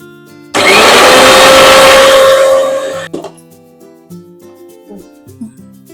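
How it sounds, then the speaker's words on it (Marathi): Kitchen mixer grinder blending ginger and coriander with a little water into a paste, starting abruptly with a loud, steady whirring grind for about two and a half seconds and then stopping, followed by faint clinks and handling sounds. "आता हे मिक्सरला वाटायचं"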